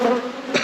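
Honey bees buzzing loudly and close during a deep hive inspection after winter, a dense continuous drone with a brief swell near the end.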